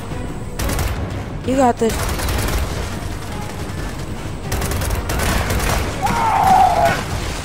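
Gunfire during a Gears of War 4 combat fight, bursts of shots and booms beneath ongoing game music and effects, while a voice speaks briefly over the action.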